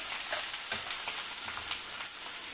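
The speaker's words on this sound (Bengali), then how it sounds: "আর এই বেগুন পেঁয়াজ কালো জিরে ফোড়ন দিয়ে ভাজা হচ্ছে" Eggplant and onion sizzle steadily in hot oil tempered with nigella seeds, with a bright, even crackle and a few soft stirring bumps, close and continuous.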